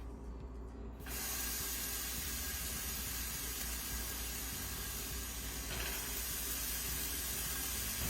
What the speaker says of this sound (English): So you can see that I'm searing the kofta kebab